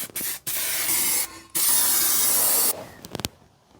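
Spray gun laying epoxy coating onto a car body in bursts: a short hiss, then longer sustained close, loud sprays, ending with a few quick sputters before quiet.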